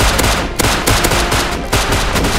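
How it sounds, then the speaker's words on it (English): Rapid bursts of automatic gunfire from the survival video game Rust, loud and close, with repeated volleys cracking in quick succession across the whole stretch and no talking over them. "Just keep shooting."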